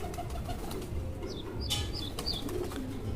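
A pigeon coos softly over a steady low background hum, a few short rounded notes spread across a few seconds with a faint chirp or two.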